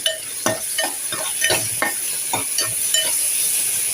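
Ginger-garlic paste sautéing in a pan while it is stirred, a steady sizzle under repeated scraping strokes of a spoon at an uneven rhythm, close and fairly loud, with no talking.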